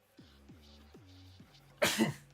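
A single sharp sneeze bursts out near the end, following a few soft, quiet tones.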